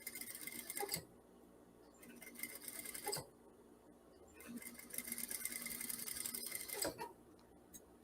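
A sewing machine runs fine topstitching along a facing seam in several short bursts, roughly one to three seconds each, separated by quiet pauses. The stitching is close and steady, and no one speaks.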